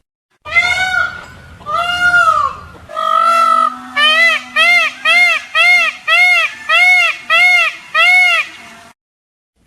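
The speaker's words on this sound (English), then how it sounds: "peacock" A peacock calls alone, loud and near: a few long, drawn-out wailing cries, then a quick run of about seven shorter, evenly spaced honking calls before it falls silent.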